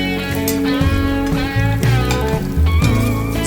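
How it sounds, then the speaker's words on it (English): Minced onion and garlic sauté in cooking oil over medium heat, giving a loud, close, continuous sizzle with scraping and stirring sounds from a utensil moving through the pan. "Sauté until translucent."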